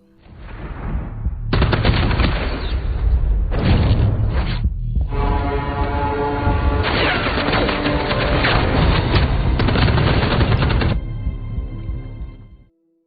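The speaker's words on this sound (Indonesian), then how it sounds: "Sementara anak buah Eddie selalu memburunya hingga memaksanya melakukan baku tembak." A loud, sustained action-film gunfight rattles through bursts of rapid automatic fire and blasts, nearly continuous for about ten seconds before dropping off abruptly, with no voices.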